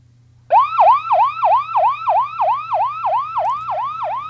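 An ambulance siren wails loudly and steadily, its rising-and-falling tone repeating in a fast, even cycle.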